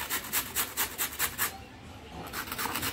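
Beetroot and carrot rubbed by hand against a grater, giving quick rhythmic rasping strokes up close, then a brief pause before the scraping resumes.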